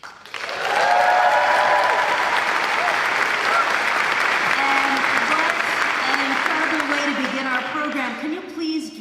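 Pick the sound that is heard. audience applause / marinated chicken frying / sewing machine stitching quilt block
audience applause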